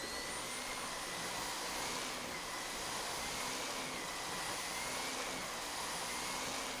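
A vacuum cleaner runs steadily near a debris-covered mat, giving a constant whooshing roar with a high whine and no change in pitch or talking over it.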